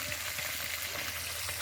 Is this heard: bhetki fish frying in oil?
yes